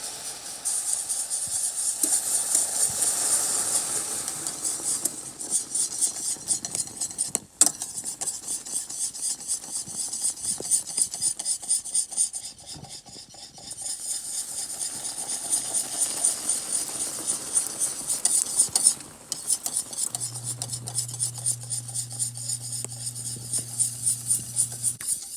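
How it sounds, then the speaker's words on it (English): A whisk scrapes and stirs rhythmically in a pan as heavy cream is worked into caramel sauce, a soft continuous rasping with brief pauses and a faint tone near the end. "What we're going to do is we're going to slowly whisk that in there."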